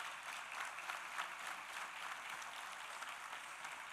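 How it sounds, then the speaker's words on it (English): Steady applause from an audience at an evening meditation gathering after a dance performance, even and continuous, heard at a moderate distance without talk. "A big round of applause."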